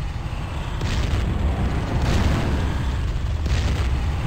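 Grenade blasts in Fire Warrior, a Warhammer 40k shooter, thud through as low rolling booms, with a few sharper bursts standing out against steady loud rumble.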